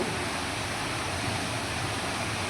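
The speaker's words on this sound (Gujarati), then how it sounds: "આ મોટર ફૂલ પાણી કાઢે છે" A water pump motor at a well pushes out a full, heavy stream of water, giving a steady, even rushing roar with no break.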